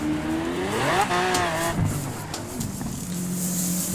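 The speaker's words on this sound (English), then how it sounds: "Doing a burnout." A Lamborghini Aventador tuned to 1200 horsepower performs a burnout in Forza Horizon 4, its engine rising and falling in pitch through revs as the tires squeal underneath, loud and continuous with no talking.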